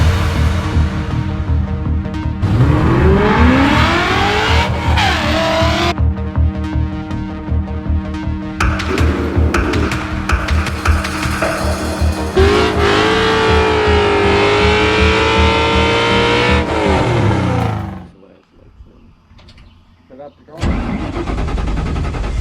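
A widebody Fox body car with a Coyote engine swap starts and runs, the engine revving up and settling through several rising and falling pulls, loud and close, then cutting off briefly before running again, with talk over the engine.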